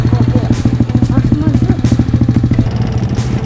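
A YCF 50 pit bike engine on an enduro trail pulses loudly and close in a rapid, rhythmic chug, held under steady throttle with slight surges, while a voice speaks over it.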